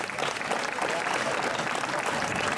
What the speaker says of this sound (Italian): se ogni tanto vi scappa un applauso, sappiate che gli applausi fanno bene